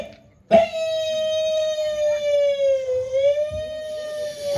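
An ambulance siren holds a loud, steady wailing tone with a slight dip in pitch partway through, starting abruptly after a short quiet moment and sounding alone.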